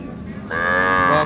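Sahiwal cow at a livestock market in Dinajpur letting out a single loud, close moo that starts abruptly and holds steady after a moment of background murmur.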